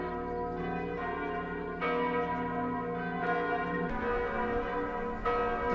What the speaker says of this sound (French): Responsable sonné cloche toute cathédrale en France mercredi 17 avril là pour te marquer 48 heures depuis que le feu a été commencé.